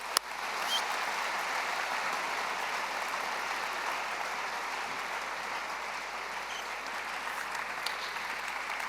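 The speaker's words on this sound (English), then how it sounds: "please, applause for Miquel Torregrossa" Audience applause for a speaker at a sports psychology conference in Padova, a steady, dense wash of clapping that holds evenly for about nine seconds with no voices over it.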